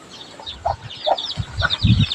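Several short clucks and chicken calls from nearby backyard fowl, including a large rooster, irregular and moderately loud, with low rustling and thumps underneath.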